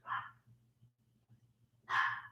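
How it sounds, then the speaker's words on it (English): A dog gives two short barks at home during a livestream, one at the start and another after a pause, with a low steady hum underneath. "Pay no attention to Henry barking."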